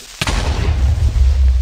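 A merged mob explodes in Minecraft with one sudden loud boom, followed by a long rumbling roar of debris that fills the rest of the moment.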